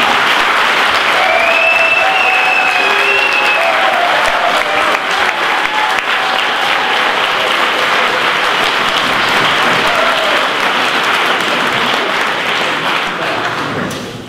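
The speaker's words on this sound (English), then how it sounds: "So please give an enormous round of applause and welcome on stage the knitting Nannas." An enormous round of applause welcoming the Knitting Nannas on stage at an annual lecture and activist award event, loud sustained clapping from a large audience with faint cheers, tapering off at the end.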